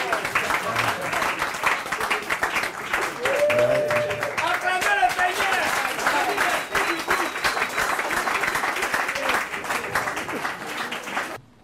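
Sustained audience applause fills the space at a community gathering in the Belleville neighbourhood, dense and steady before fading out, with a voice speaking over the clapping.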